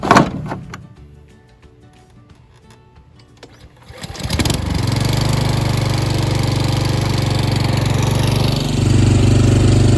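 A lawn mower cutting zoysia grass set to about 2.5 inches. It starts up around four seconds in with a rising roar, then runs as a loud, steady engine drone to the end, with some clatter and knocks before it starts.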